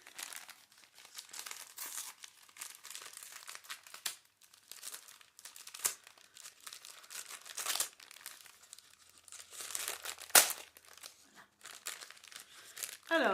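Plastic wrapping on a yarn package crinkles and rustles as it is opened, irregular close crackling bursts over several seconds with a few sharper tearing peaks.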